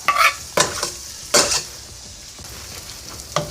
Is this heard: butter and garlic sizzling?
yes